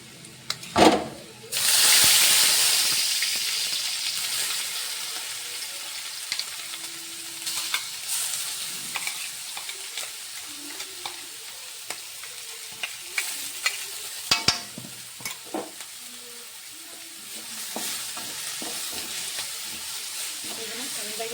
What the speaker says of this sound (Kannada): ಇದನ್ನು ಚೆಂದಾಗಿ ಎಣ್ಣೆಗೆ ಫ್ರೈ ಮಾಡ್ಕೊಬೇಕು ರೀ